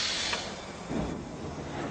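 Steady steam hissing, a broad, breathy rush with a brief brighter burst early on, continuous and fairly close with no voices.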